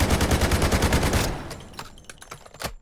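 Rapid automatic gunfire from a weapon in the Delta Force video game, fired with recoil control: a steady, even burst of loud close shots for over a second, then a few scattered single shots and clatter trailing off.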